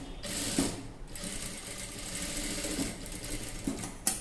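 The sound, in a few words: sewing machine stitching around buckram cloth for blouse neck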